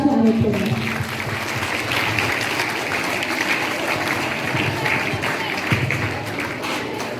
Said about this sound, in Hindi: उनके लिए एक ताली के द्वारा उनका स्वागत करें